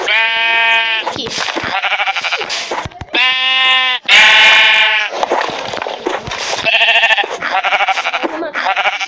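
Sheep bleating in a video game, a loud run of repeated, wavering bleats in quick succession from several animals, close up, with no talk over them.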